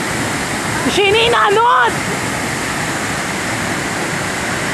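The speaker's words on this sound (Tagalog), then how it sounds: "Actually, maulan ngayon eh. Kaya ganyan kalakas yung fall." Tinakayan Labrador waterfall running strong after rain, a steady broadband roar throughout, with a voice briefly calling out near the start.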